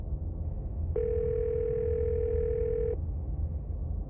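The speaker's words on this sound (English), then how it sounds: "hear something drop violently on the other end, then a dial tone" A steady telephone dial tone in the video game Scarlet Hollow holds for about two seconds, clear and alone over a low background hum, then cuts off abruptly.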